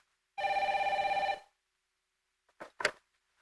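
A telephone bell rings in one sustained electric burst of about a second in a car salesman's office, loud and close, followed by a couple of brief knocks or movement sounds.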